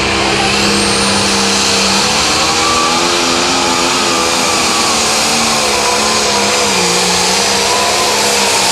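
A 9500-pound limited pro stock pulling tractor roars at full throttle during a pull, its loud, sustained engine note holding steady with slight pitch wavers throughout.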